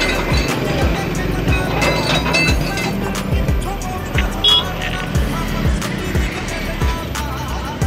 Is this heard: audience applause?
no